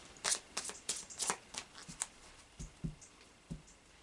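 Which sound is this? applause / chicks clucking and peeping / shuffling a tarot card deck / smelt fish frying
shuffling a tarot card deck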